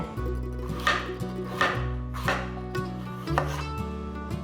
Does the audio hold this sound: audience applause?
no